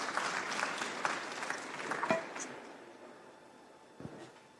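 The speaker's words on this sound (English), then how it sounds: "and you can applaud him." An audience at a museum conference applauding, a steady wash of clapping that fades out over a few seconds, with a voice speaking over it.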